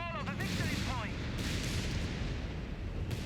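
Panzer IV tanks open fire during a 2v2 armor battle on Pachino Farmlands in Company of Heroes 3, heavy cannon booms and battle rumble running dense and continuous under a caster's voice.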